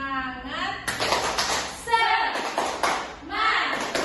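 Schoolchildren in a classroom perform a rhythmic spirit clap, with sharp bursts of group clapping alternating with their voices chanting along.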